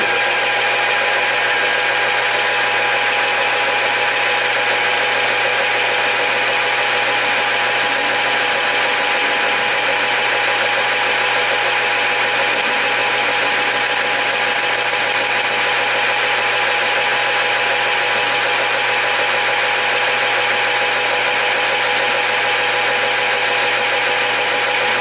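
A metal lathe facing off a part runs with a steady, continuous mechanical hum and whine. The sound holds unchanged throughout, close and fairly loud, with no talking.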